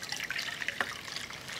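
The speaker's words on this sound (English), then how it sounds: "You pour this into a nice decorative serving pot." Clam broth trickles through a fine sieve into a decorative serving pot, a steady, soft liquid stream heard close, with no talking over it.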